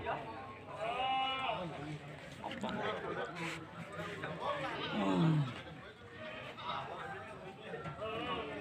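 Goats bleat several times across a busy livestock market at Kemujing, Binangun, Cilacap, Java, close and fairly loud, over steady crowd chatter and people talking throughout.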